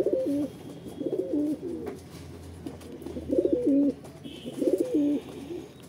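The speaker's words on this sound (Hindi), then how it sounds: "ये आया बाहर निकल के हमारा कबूतर।" A pigeon released from a net coos in repeated soft, throaty phrases, four clear bursts close by with short pauses between, over light outdoor background and no talk.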